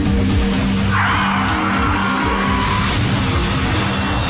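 A car skids on an icy road with useless brakes, a loud continuous tire squeal and sliding hiss sweeping across the middle of the stretch over engine noise, with no speech.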